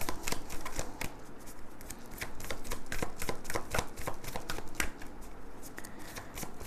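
Tarot cards being shuffled, a rapid run of crisp papery riffles and flicks repeating close by without pause over a steady low background.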